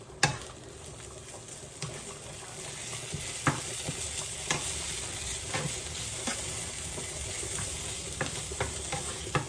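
Chopped garlic sizzles steadily in a hot pan for sun-dried tomato spaghetti, with a constant frying hiss and occasional sharp scrapes and clicks as a utensil stirs it, close and alone.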